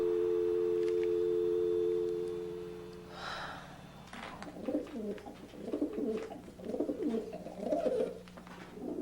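A pigeon coos in soft rolling phrases, several repeated calls close by, following a steady electronic tone and a brief clatter, with no talking.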